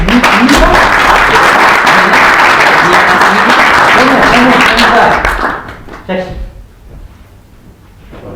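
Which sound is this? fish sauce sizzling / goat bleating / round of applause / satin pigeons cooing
round of applause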